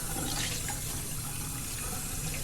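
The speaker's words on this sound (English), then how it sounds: "empty the water into the sink, rinsing the denture cup about 3 times" Water poured out of a denture cup into a sink, a steady, continuous rushing splash that holds at the same level throughout with no talk.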